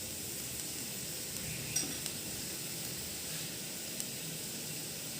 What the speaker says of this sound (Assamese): এতিয়া ইয়াতে মই দাইলখিনি ঢালি দিম।